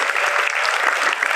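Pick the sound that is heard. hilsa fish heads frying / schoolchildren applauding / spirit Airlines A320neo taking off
schoolchildren applauding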